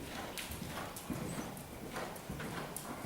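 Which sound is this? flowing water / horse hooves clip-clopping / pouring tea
horse hooves clip-clopping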